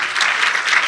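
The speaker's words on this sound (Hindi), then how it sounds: "आए उस यीशु बादशाह के लिए हम जोरदार तालियां बजाएंगे।" A short, loud burst of congregational applause for Jesus during a Hindi-Urdu church sermon, a dense even wash of clapping lasting only a moment.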